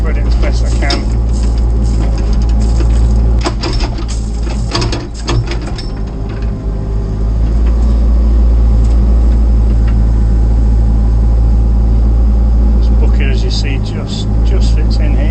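A tractor loader scoops gravel from a trailer and spreads it in a firewood yard, its engine droning loud and steady throughout, with clanking and rattling of the bucket and hydraulics over a low rumble.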